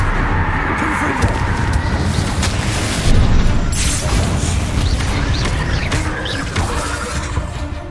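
Repeated Confringo blasting spells in Hogwarts Legacy, with booming magical explosions and shattering crackles layered over continuous loud combat noise, heard near and dense for the whole stretch.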